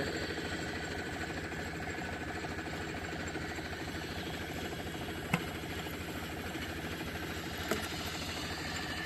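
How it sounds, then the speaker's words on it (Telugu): A Bayer field-to-plant machine's engine runs at a steady idle, a constant low mechanical hum with faint vibration and a couple of brief clicks, heard alone without speech. "ఇదిగోండి ఫీల్డ్ టు ప్లాంట్ మెషిన్"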